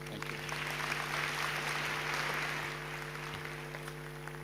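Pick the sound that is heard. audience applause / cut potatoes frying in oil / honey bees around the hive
audience applause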